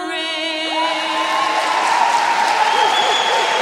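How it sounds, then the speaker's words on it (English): Crowd at a college volleyball game, Siena at Albany on a pink-themed night, applauding and cheering steadily at close range, with sustained clapping and whistle-like tones rising through the noise. "Nice crowd on hand tonight."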